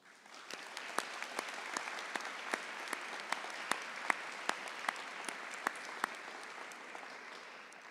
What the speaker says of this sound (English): Students, please join me in giving your families and friends a well-deserved round of applause